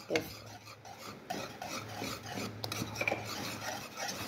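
Stirring dalda into asida, a hot Arabian sweet, in a pot: soft scraping and rubbing strokes with occasional light clinks of utensil against the vessel, close and quiet.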